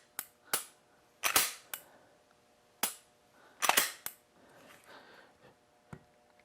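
A pistol being dry-fired and cycled after a forward set sear and trigger install, sharp close mechanical clicks and snaps in irregular groups, some doubled, with softer handling noise between.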